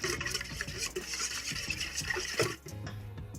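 A yeast dough mixture is stirred in a bowl, producing close, steady wet scraping and swishing strokes with a short pause near the end.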